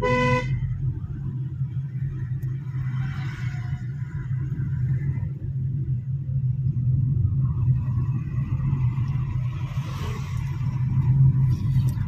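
Car engine accelerating in third gear during a driving lesson, a steady low rumble that builds slightly, with a brief horn toot from traffic at the start.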